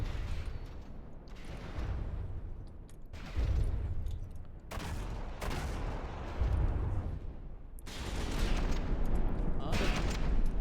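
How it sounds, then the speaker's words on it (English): Rapid-fire CRAM cannon volleys in a naval battle video game, dense bursts of loud repeated shots in clusters with brief lulls, layered with heavy booming impacts and battle noise throughout. "cram is being used as the rapid fire weapon"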